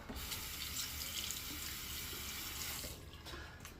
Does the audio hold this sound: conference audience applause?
no